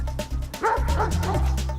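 Police dog at police dog trials, barking in a few loud, close yips and bow-wows with a short whimpering edge, with no talk over them.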